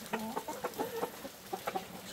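Backyard chickens cluck in short, quiet, irregular bursts inside a coop while pecking at plums, with a steady low background hum.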